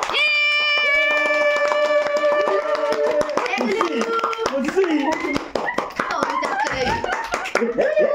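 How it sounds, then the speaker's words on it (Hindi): People clap hands at a family Ashtami celebration at home in Odisha around cake cutting, quick clapping mixed with sung tones at first and then lively overlapping voices and chatter. "ताली बंद मत दियो भाई"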